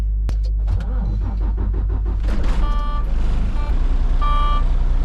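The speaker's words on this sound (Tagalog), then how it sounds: "Start muna natin ang truck. Magpainit muna tayo ng makina bago tayo tuluyang lumarga." A truck engine cranks, catches and settles into a loud, rumbling idle, with a few short electronic beeps chirping over it.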